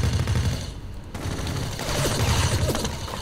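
Turret machine gun fire in the video game Kill Switch, a dense loud fusillade of rapid shots sustained across the whole stretch, with no one talking.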